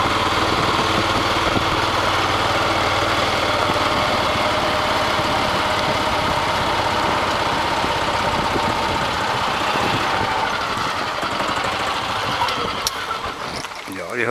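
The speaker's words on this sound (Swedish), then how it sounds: "vi hörde puttrandet av motorn här då" A small golf cart engine putters steadily and close for a long stretch on a golf course, its even mechanical chugging filling the background before fading slightly at the end.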